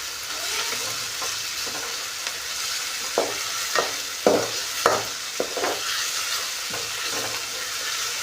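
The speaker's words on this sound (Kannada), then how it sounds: "ಟೊಮೆಟೊ ಸಣ್ಣಗೆ ಇವಾಗ ಚಲೋ ತಂಗಿ ಫ್ರೈ ಮಾಡ್ಕೋಬೇಕ್ರಿ" Chopped tomato frying in a pan with a steady, soft sizzle, punctuated by several distinct scraping stirs of a spoon against the pan, close and fairly quiet with no talking.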